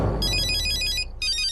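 Telephone ringing in a movie scene, a bright electronic ring sounding in two bursts with a short gap between them, loud and close, with no talk over it.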